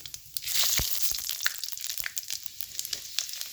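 Bay leaf, cumin seeds and five-spice seeds hit hot oil in a pan for a Bengali kochur loti curry, giving a close, bright sizzle with sharp crackles and pops.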